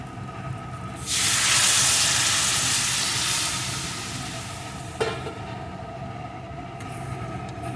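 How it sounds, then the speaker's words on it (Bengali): Warm water poured into a hot pan of sautéed potatoes for an egg and potato dal sends up a loud, broad hissing surge of steam and sizzle. It slowly fades into a steady simmer, with a sharp clink near the end. "এখন আমি এর ভিতরে দিয়ে দেব পরিমাণ মতো জল। এখানে কিন্তু আমি উষ্ণ গরম জল দিয়ে দিচ্ছি।"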